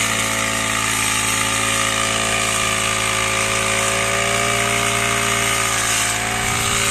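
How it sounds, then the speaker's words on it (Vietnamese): A Chinese-made four-stroke brush cutter runs steadily while cutting grass, a loud sustained engine whine with a constant tone throughout, close to the listener and without any talk. "máy cắt cỏ Trung Quốc mọi người nhé"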